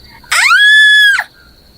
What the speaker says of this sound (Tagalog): Rinig kong sigaw niya nang itulak ko siya at mahulog sa mga patibong na ginawa ko